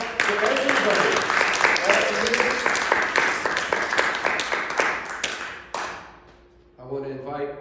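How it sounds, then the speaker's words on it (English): An audience in a hall breaks into a dense round of applause, loud and sustained for several seconds before thinning out and fading, with a voice and a brief tonal sound emerging near the end. "If I can hear those in the hall with a little round of applause for everybody."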